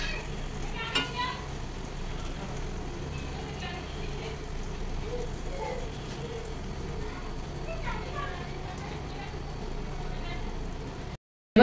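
Batter mixture fries in oil in a pan with a steady, close sizzle and crackle running throughout, brief louder pops here and there, and a voice talking over it.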